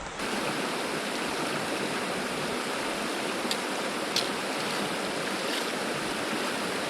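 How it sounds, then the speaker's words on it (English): Steady broadband rush of a flowing creek in New Zealand's Kaweka range, constant and fairly close, with a few faint clicks or splashes near the middle and no voices. "I've been following or just crossing over this creek the whole time"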